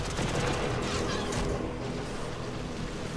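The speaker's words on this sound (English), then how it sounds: "And you have a little mini gun." Minigun fire on an Archwing in the game Warframe, a dense continuous rattling burst running steadily through the whole stretch at fairly even loudness with no pauses.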